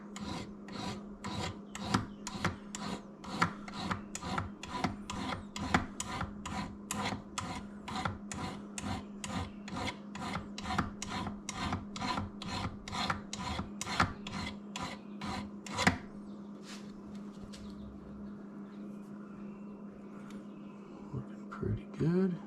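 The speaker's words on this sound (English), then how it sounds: "I don't typically saw with my file" A hand file rasps through a small piece clamped in a vise, used to cut a slot on a DIY tripod quick release adapter. About thirty steady, even strokes sound close, then stop and leave quiet room noise.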